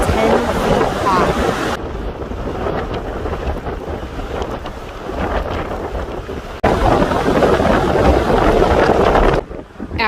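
Strong wind batters the Door County shore near Egg Harbor on the bay, where waves run high. A continuous, loud roar with gusty surges buffets the microphone throughout.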